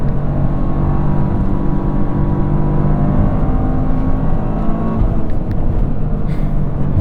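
A 2023 Toyota GR Corolla engine holds a loud, steady high-revving drone from inside the car, a constant buzzing roar with no talk.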